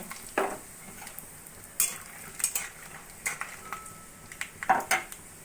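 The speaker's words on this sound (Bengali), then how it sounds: "ওই তেলের মধ্যে আমি কয়েকটা বাদাম ভেজে নেব" Peanuts fry in oil in a pan left over from frying lentil dumplings, a faint sizzle broken by repeated sharp clinks and scrapes of a stirring spoon against the metal.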